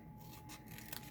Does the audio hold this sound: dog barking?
no